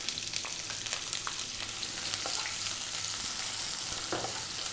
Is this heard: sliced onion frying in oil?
yes